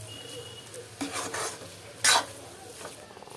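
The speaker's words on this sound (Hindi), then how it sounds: "और साग में लगा रही हूँ मैं तड़का।" Saag being tempered with a ghee tadka in a pan: a spoon scrapes and stirs against the metal in short bursts while a light sizzle continues, with one loud clatter partway through.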